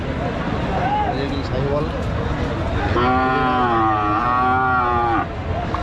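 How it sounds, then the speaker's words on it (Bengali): A cow at a Bangladeshi cattle market where Brahman, Gir and Sahiwal breeds are sold lets out a long, loud, wavering moo close by, over a busy crowd and voices. "খুব সুন্দর একটা গরু।"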